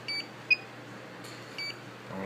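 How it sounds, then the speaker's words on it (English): A few short electronic beeps and chirps from a Turnigy 9XR radio transmitter, quiet and close, spaced irregularly over a low steady hum. "I don't know why this thing is beeping."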